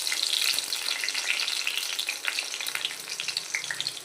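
Cumin and crushed garlic paste fry in a pan for an aubergine masala, giving a close, continuous crackling sizzle with bright spitting pops and no voices.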